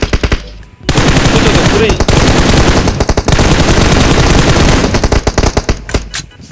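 Rapid automatic machine gun fire in the mobile battle royale game PUBG Mobile, loud, sustained bursts that pause briefly and resume, with a short spoken word mixed in.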